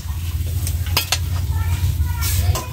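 Vegetables mixed with salt, chili powder and turmeric powder are stirred in a pan over a low sizzle, with a series of quick scraping and clinking strokes of a utensil against the pan, close and fairly loud.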